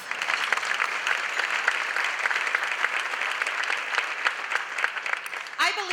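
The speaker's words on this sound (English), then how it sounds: "Give yourselves a round of applause." A large luncheon audience at the Chicago Go Red event for the American Heart Association applauds steadily and loudly for about six seconds, with a brief voice near the end.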